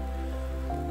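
Rain falls steadily in a brief, continuous wash of hiss at an army training camp, with a constant low hum underneath and no voices.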